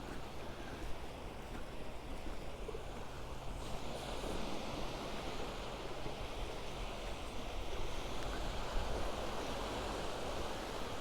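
Gentle sea ripples lapping along the coast at Paguera, Mallorca, a steady soft wash of small waves with light wind, continuous and even, with no voices.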